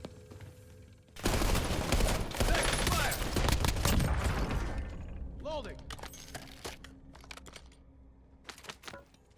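Bursts of rapid gunfire from a first-person shooter game heard through a gaming headset, dense automatic shots for a few seconds, then scattered single shots and clicks trailing off at a moderate level.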